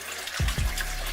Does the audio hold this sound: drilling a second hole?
no